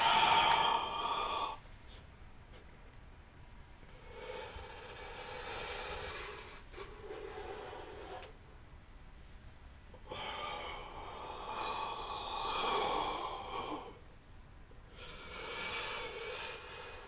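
Slow, controlled exhalations during a yoga session come in soft airy bursts of a few seconds each, alternating with quieter pauses, close and gentle without any talking.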